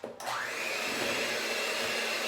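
Electric hand mixer whirring steadily in brownie batter, starting with a brief click and rising to a constant high motor whine, close and alone.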